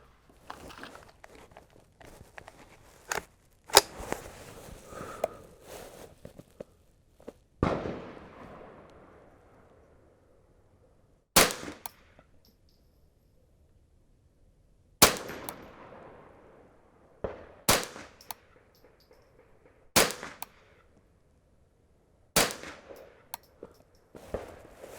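A Brownells 10/22 takedown rimfire rifle fires single shots at a shooting range, sharp, close cracks spaced several seconds apart, about nine in all, with faint handling noises between them.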